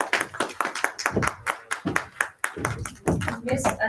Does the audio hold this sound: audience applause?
yes